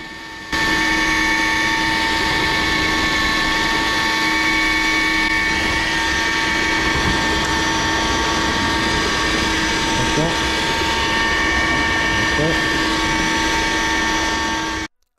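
A DeWalt cordless paddle mixer runs steadily and loudly at close range, giving a constant motor whine with tonal hum and gear rattle and no pauses, then stops at the end.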